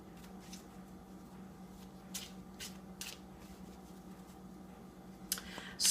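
Cards are shuffled softly in a few short riffling bursts against a quiet background hum, ending with a louder final riffle.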